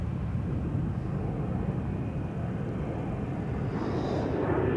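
KLM airliner taking off from Schiphol's Polderbaan runway, a broad, steady jet roar heard from the runway side at moderate distance, holding level throughout.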